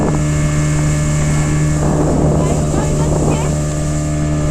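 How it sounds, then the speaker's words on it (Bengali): A speedboat runs across the water of Maithon Dam in Purulia, a loud, close, steady engine drone mixed with heavy wind buffeting. "মাইথন ড্যামে বোটিং করছি, স্পিড বোটে।"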